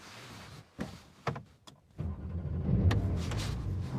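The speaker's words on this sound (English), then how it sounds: "Let's carry on the drive in this Turbo 50" Inside a Porsche 911 Turbo 50, a few mechanical clunks and whirs give way to the engine and road noise building into a steady, close drive, with no talk.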